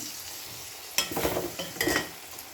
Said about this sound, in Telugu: ఎండు చేపలు మనకి ఫ్రై అయిపోయాయి